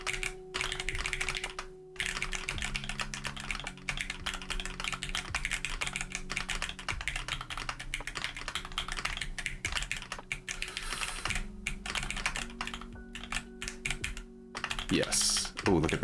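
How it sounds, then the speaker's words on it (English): Rapid clicking keystrokes from a new computer keyboard, typed in steady bursts with brief pauses, sitting under a continuous layer of game music and sound effects during Tetris play. "this is actually a test stream for the new keyboard to see if it makes good"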